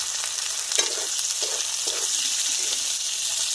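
Onions fry in hot oil with dried chillies and bay leaves, hissing continuously while a spatula stirs them in a few soft, close scrapes.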